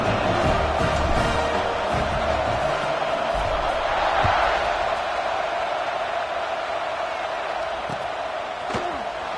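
A stadium crowd roars before kickoff in a Georgia Tech Yellow Jackets at NC State Wolfpack college football video game, a continuous loud wash of cheering throughout, with occasional thuds.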